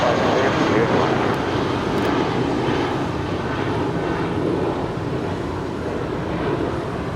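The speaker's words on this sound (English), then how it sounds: "That is United Airlines Flight 2242 coming in" A United Airlines airliner landing at LAX, Flight 2242, gives a loud, steady jet roar that fills the whole stretch and eases slightly toward the end, with a voice faintly present underneath.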